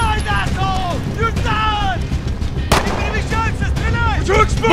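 Gunfire in Call of Duty: Modern Warfare (2019) bursts through a battle soundscape as repeated loud cracks, with a heavy thump near the middle, under constant shouted talk.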